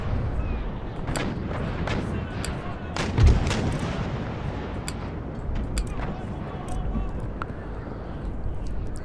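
A ship's cannons fire a broadside volley in the naval battle game Empire Total War, with a rolling series of booming shots over a constant rumbling battle din, close and loud.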